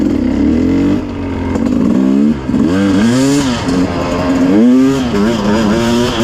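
A Sherco enduro motorcycle engine revving hard and close, its pitch climbing and falling in repeated surges through gear changes with no talk.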